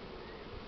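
Buckfast honey bees buzz in a steady, dense drone during a spring hive expansion, a brief, faint and even hum with no voices.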